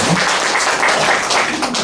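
Church congregation claps together in a steady burst of applause during a worship service, fairly loud and continuous with a faint voice underneath.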